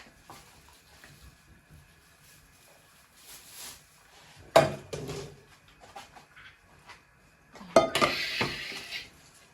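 Metal pots and pans clank and clatter nearby, with two sharp knocks and some scraping and rattling in between, no talking.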